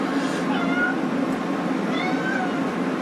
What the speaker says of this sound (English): I got a cat in here driving me crazy.